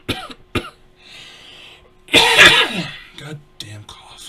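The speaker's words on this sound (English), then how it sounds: "Goddamn cough." A man coughs, a couple of short sharp barks early and a longer harsh rasping fit in the middle, close and loud amid quieter breathing and throat sounds.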